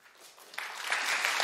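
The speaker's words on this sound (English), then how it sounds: "Y'all clapping." An audience at a comedy show breaks into clapping that swells quickly from scattered hands to a full burst of applause.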